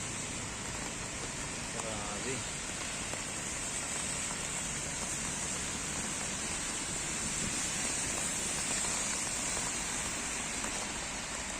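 Steady, dense downpour in Barcelona, Spain fills the whole stretch with a constant roaring hiss, close and unbroken.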